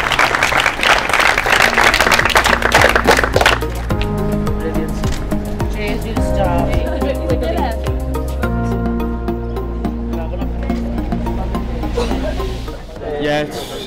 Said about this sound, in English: So round of applause to Trent and the boys.